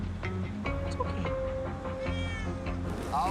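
A cat stranded up high meows repeatedly, its cries drawn out and plaintive over a steady low engine rumble. Other noises from the rescue scene are mixed in, and the cat sounds fairly close.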